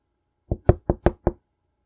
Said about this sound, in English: Guess I should knock on the door.